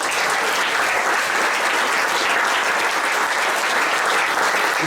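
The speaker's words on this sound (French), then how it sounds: "Je pense qu'on peut les applaudir aussi." Applause for amateur coaches and volunteers at the official presentation of a Besançon handball club's squad: dense, continuous clapping from a crowd, loud and steady throughout without pauses.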